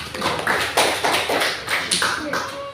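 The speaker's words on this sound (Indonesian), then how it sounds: "Ya, berikan tepuk tangan" Students in an Indonesian classroom clap in short uneven bursts, a handful of close, sharp hand claps rising and falling over a couple of seconds with faint voices mixed in.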